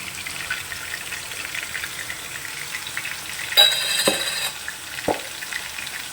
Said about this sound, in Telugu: ఇప్పుడు వెంటనే ఈ ఉల్లిపాయలు కూడా వేసేసుకోండి